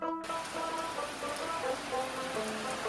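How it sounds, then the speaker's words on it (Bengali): Steady rain pours down beside Kaptai Lake, Chittagong, heard from inside a mud house, a dense constant hiss of drops with a faint tonal hum in the background and no voices. "মাটির ঘরে বসে বৃষ্টির আনন্দ নেয়া"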